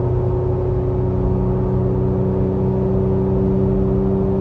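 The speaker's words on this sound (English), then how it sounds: "You can probably hear my tires a lot more than the exhaust, but let me upshift." A Toyota Tacoma with an AWE dual exhaust cruises in fourth gear just after an upshift: a steady, droning engine note blends with constant tire roar, holding an even level throughout with no talking.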